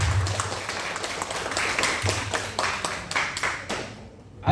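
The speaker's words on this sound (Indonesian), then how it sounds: "Berikan tepuk tangan yang meriah." Audience at a university diplomat dialogue event applauding in a hall, a continuous wash of many hands with a low hum underneath, fading out near the end.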